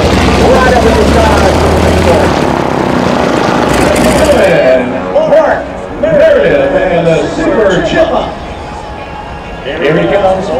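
A Super Chipmunk aircraft flies low over the deck at a 2019 Leesburg airshow, its engine droning loudly through the whole clip while an announcer talks over it.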